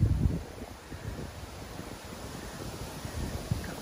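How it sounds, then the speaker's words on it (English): Soft, steady wind hiss with gentle rustling, fairly faint, and a brief gust-like buffet at the start. "It's windy today."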